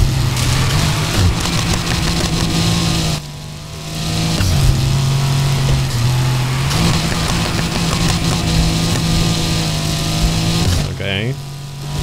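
A 4-litre V8 car in the Need for Speed Heat racing game drones steadily and loudly, its engine note holding and shifting through gears, with a brief dip mid-drive and speech likely mixed in.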